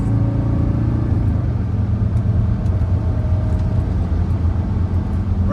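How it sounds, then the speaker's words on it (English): A 1983 Mercedes-Benz 300D Turbodiesel accelerates on a back road, a steady low diesel drone heard from inside the cabin with faint turbo whine layered above, continuous and moderately loud with no one talking. "Very nice acceleration. Turbo spools up nicely."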